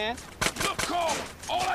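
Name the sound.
gunfire in video game GTA San Andreas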